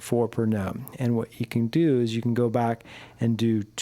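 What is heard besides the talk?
No everyday noise stands out behind the speech.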